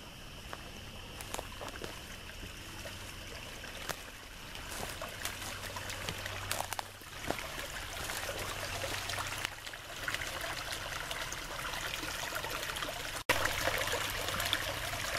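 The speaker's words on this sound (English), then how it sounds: "so it has a nice little stream." A small outdoor stream trickles over rocks at a wild water source, a continuous gentle burble and splash heard close by, with occasional louder plops and a sharp knock near the end.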